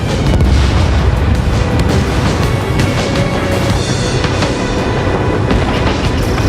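A missile launches in the Ace Combat 7: Skies Unknown flight combat game on PC, giving a loud, sustained booming roar and rumble that fills the whole span at high volume, with no speech over it.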